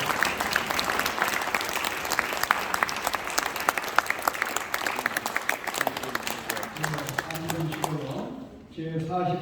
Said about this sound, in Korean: 기립 박수. 기립까지. 다 같이 한번 일어나셔서 뜨거운 박수로